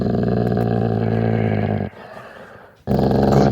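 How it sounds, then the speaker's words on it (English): A deep, loud growl from a waist-high junkyard dog rumbles close by, pauses briefly, then resumes with renewed intensity. "a waist-high junkyard dog stares at Stan, growling louder as they lock eyes"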